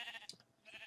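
A sheep bleats in a video game, a short faint wavering cry heard twice in quick succession, thin and distant.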